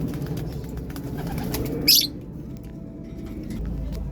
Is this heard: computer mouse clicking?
no